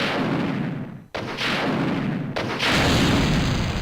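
Gunfire in the video game Resident Evil 2, loud heavy blasts that cut in abruptly, with sustained booming reverberation filling the gaps between a few separate shots.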